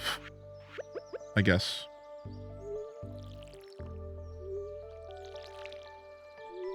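Crops being watered in Stardew Valley make a quick series of soft splashy drips and plops early on, under light music and a person talking.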